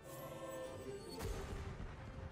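A grenade explosion in a slot machine game, a single muffled boom midway through, rising out of faint electronic machine tones and followed by a low rumbling tail.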